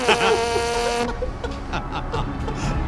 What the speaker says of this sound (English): This is the sound of assault trombone.